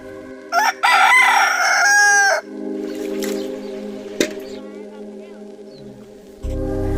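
A rooster crows loudly in an Indian village at morning, one long drawn-out call followed by a quieter outdoor hush with faint distant sounds.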